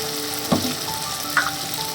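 Frying in a pan with salt and turmeric, with a steady, close sizzle and two distinct scraping stirs of a spatula about a second apart.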